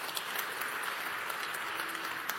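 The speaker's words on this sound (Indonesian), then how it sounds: "Tepuk tangan saudara." A church congregation applauds during a sermon, a steady wash of clapping that stays fairly quiet and even throughout.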